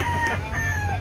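A gamecock rooster crows once, close and clear, with a short drawn-out call and no talking.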